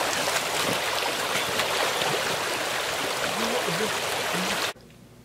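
Water runs steadily through a shallow woodland stream used for a class, with a continuous broad rushing and trickling wash close by, no voices, cutting off abruptly just before the end.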